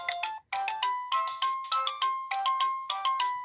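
A 2003 VTech Peek a Boo Book toy plays a bright electronic melody of short repeating beeping notes, loud and close, with a brief gap near the start.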